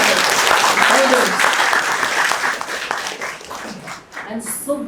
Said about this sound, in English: can you give a big round of applause for all my elders?